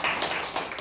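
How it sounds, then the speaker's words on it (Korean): A church congregation breaks into a short, dense burst of applause, many hands clapping together loudly and close for under a second. "박수 한번 주세요."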